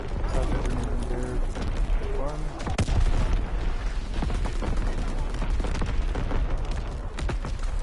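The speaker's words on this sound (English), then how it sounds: "Firing division artillery." Division artillery barrage in Call of Duty WWII, booming shots and blasts layered with gunfire, with talk over it.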